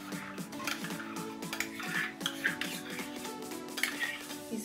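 Mango puree being mixed in a bowl for mango custard, with a spoon repeatedly clinking and scraping against the bowl's side in an uneven rhythm, close and fairly quiet, no voices.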